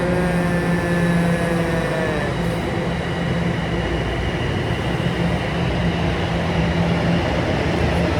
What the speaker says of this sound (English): Just got off the subway here at York University Station.